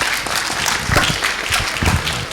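Dense clapping from an audience at a Bhagavad Gita lecture session, loud and sustained throughout, close and crowded with no voices over it.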